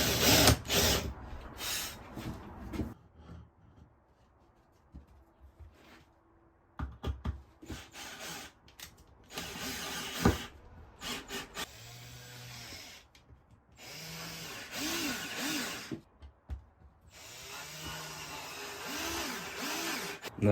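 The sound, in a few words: power drill making small pilot hole for screw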